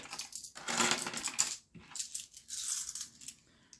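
Coins clinking and jingling together close up, a handful shifting and rattling in bursts, fairly quiet with no talking.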